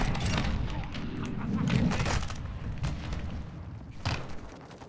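Gunfire in a Call of Duty match crackles in scattered bursts and single shots mixed with thuds, fairly quiet and close, while a player talks over the game.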